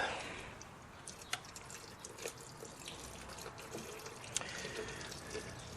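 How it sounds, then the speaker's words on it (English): Liquid running and trickling out of a drain pan during work on a burned Copart salvage vehicle, a steady watery pour with scattered drips and small splashes, fairly faint and alone without talk. "Let me get that all drained out."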